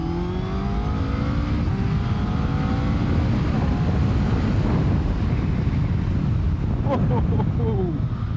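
BMW K1300R motorcycle accelerating hard with quick-shifter gear changes, a loud continuous engine roar smeared with heavy wind rush, rising tones stepping through shifts toward the end.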